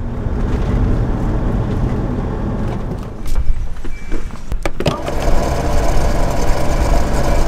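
A motorhome engine runs with a steady, loud low rumble on a drive in northern Spain, dipping briefly and broken by a few sharp clicks before settling back into a continuous drone.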